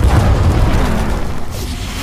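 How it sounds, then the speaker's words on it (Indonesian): A hub on Mars explodes from an air leak: a loud, deep explosive boom with a heavy low rumble that rolls on and slowly fades out over a couple of seconds. "Tiba-tiba terjadi kebocoran udara yang membuat hub meledak."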